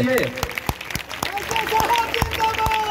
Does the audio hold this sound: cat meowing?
no